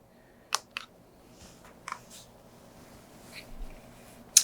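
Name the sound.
typing on ROG Azoth keyboard with GMK Cyberdeck keycaps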